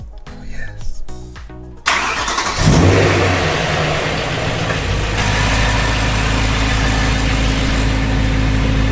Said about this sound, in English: I'm gonna let it idle outside, come up to temp